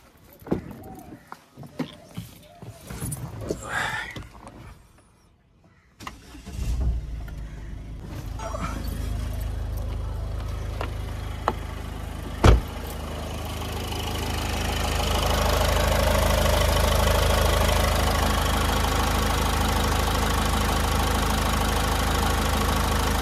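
Ford EcoSport diesel engine cranking to life and settling into a steady rumbling idle, heard up close after someone talks over handling noises, the idle growing louder and continuous toward the end.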